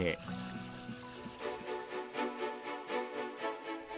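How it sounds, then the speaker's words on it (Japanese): A handmade craft piece is polished as a finishing step, with regular back-and-forth rubbing strokes in a steady rhythm, close up, over soft sustained background tones. "そして仕上げの工程が磨く作業です"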